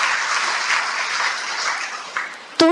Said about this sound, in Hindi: तालियां बजाएं सबके लिए।